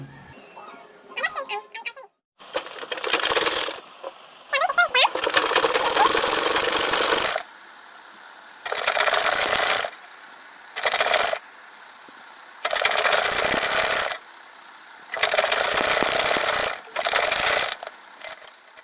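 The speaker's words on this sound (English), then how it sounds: "So I'm done sewing it" A sewing machine runs stitches around a piece of fabric in repeated loud bursts of several seconds each, with short pauses between them and a brief stretch of handling noise at the start.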